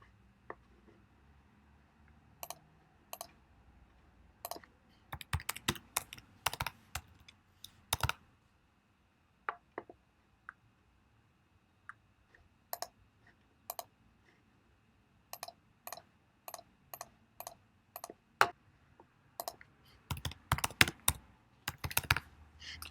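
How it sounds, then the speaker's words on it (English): Typing on a computer keyboard while entering product names into Mailchimp, with irregular bursts of sharp, close key clicks separated by short pauses and no talk. "coming back and just simply typing them in here"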